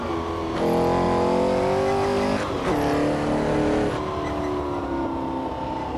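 A 1964 Porsche 904 with a 2-liter, 200 horsepower flat-six racing engine on the Targa Florio road course in Assetto Corsa, loud and close, revs climbing in rising sweeps with sharp gear shifts between pulls.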